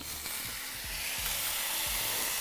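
Smashed beef burger patty sizzling on a hot griddle, a steady loud hiss of frying fat with faint low thumps beneath, close and continuous with no talk.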